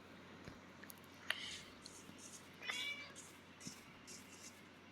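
A cat in the Minecraft video game meows twice, a few seconds apart, each call short and moderately clear over quiet background game ambience, with no speech.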